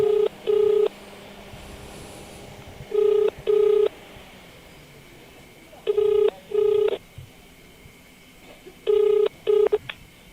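Touch-tone phone dialing on speakerphone: four pairs of short, clean beeps spaced a few seconds apart, each beep bright and steady, over a faint background hum with no talk.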